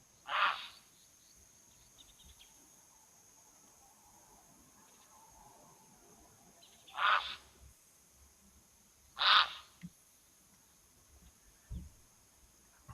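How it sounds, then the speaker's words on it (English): A grey heron at a waterhole gives harsh, rasping croaks, three short separate calls spaced several seconds apart over a quiet background, each abrupt and fairly loud against faint ambient noise. "indeed the grey heron that is making this awful sound"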